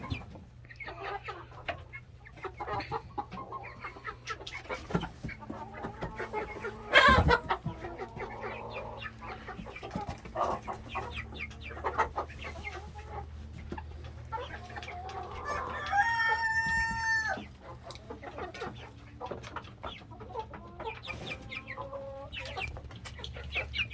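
Three silver-laced hens cluck close by in a backyard coop, short clucks and soft calls scattered across the whole stretch, with a louder squawking burst near the end and faint background noise throughout.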